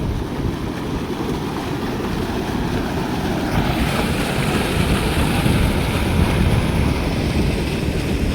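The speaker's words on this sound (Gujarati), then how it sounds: "કેટલું મસ્ત પાણી જાય છે." Water in a stream rushes steadily for the whole stretch, a loud, dense broadband roar close to the microphone with a windy edge and no pauses.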